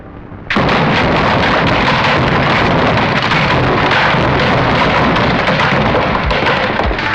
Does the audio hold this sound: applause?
no